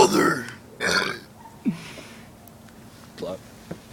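Voice talking in belches, a few short burped syllables delivered as a spoken line, close to the microphone, followed by quieter breathy sounds.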